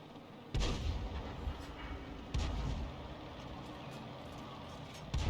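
Tank cannon shots with standard ammo in the M44 Ace Tanker video game, two loud booming blasts each trailing into a long rumbling decay, with a faint third shot starting at the very end.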